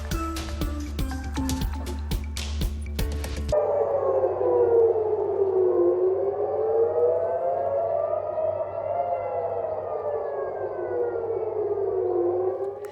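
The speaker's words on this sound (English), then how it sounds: "Sirens ring out across Tel Aviv this morning" After a brief burst of music, a civil-defense siren wails on its own in Tel Aviv, slowly rising and falling in long sweeping cycles.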